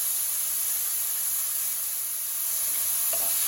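Mild seasoning stirred into a hot pan, heard as a steady, dense sizzling hiss with one faint scrape near the end and no talking.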